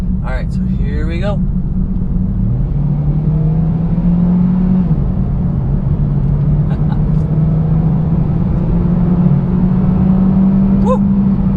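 A 2019 Hyundai Veloster accelerates hard on a straight, its engine drone rising steadily and loud inside the cabin with a brief shift dip midway, while a voice speaks over it.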